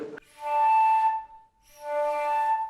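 Two sustained flute harmonic tones played without enough breath support, slightly unsteady and airy, close and moderately loud with a brief pause between them and no speech.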